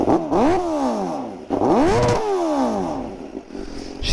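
A motorcycle with a titanium exhaust revs hard twice, its engine pitch rising sharply and dropping, loud and close, then settling into a rumbling idle.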